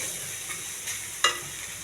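Onion and ginger-garlic paste fry in a pan with a steady, fairly quiet sizzle, broken by a few faint stirring scrapes and one sharper clink of a spoon.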